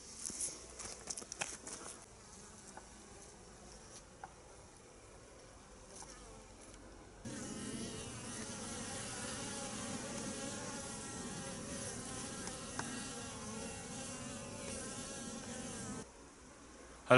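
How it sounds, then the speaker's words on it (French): A dense, steady buzz of many honeybees flying out of the hive in January, close by, swelling louder midway and continuing without voices. "Les abeilles sortent, elles ramènent un petit peu de pollen."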